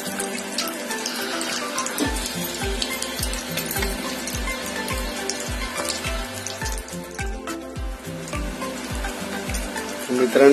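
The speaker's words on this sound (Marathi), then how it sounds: "तर आता आपण गोल्डन ब्राऊन होईपर्यंत तळून घेणार आहोत." Bread rolls deep-frying in hot oil until golden, a dense bubbling crackle with a steady run of soft low pops about twice a second, close and continuous.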